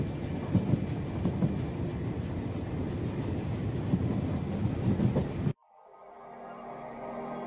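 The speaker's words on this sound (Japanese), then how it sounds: "胸に抱く希望を乗せて列車は星の海を渡って行きます" An anime game sound effect of a train running: a steady, full rumble with a faint rhythmic clickety-clack that cuts off abruptly, leaving a quieter fading tail.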